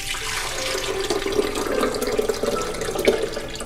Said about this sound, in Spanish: Joanita, vamos a poner acá primero las 3 tazas de agua de coco.